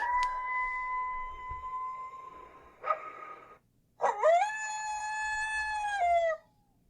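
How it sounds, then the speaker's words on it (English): Recorded canine howls: a long sustained tonal howl, a brief yip, then a second wavering howl, played back fairly loud and clear with no talking. "There's a distinctive dog sound to it"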